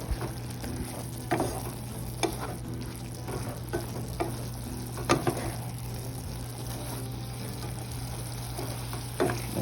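Fried bread slices stirred into sugar syrup for bread halwa, with a steady low hum underneath and a few soft spoon scrapes and wet clinks spread across the clip; no one speaks.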